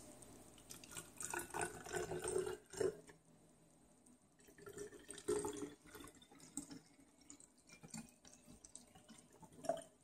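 About 100 milliliters of test water poured into an empty plastic bottle, a quiet trickling and splashing in uneven bursts with short pauses between them.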